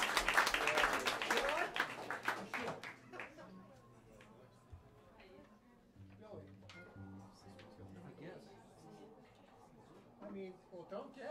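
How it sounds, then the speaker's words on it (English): Scattered applause fills a small jazz club. It is dense and loud at first, then thins out over low murmuring voices and room chatter. "Big round of applause for Nicole."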